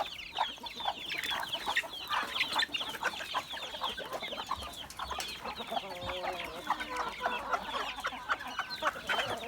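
Chickens cluck busily and continuously close by while pecking at watermelon and cucumber rinds, with overlapping calls and no talking.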